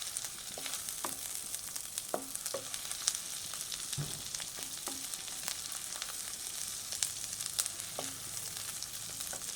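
Ginger frying in hot oil for pilaf (pulao) while being stirred: a steady broadband sizzle throughout, with light periodic scrapes and taps of the spoon against the pan, alone with no talk.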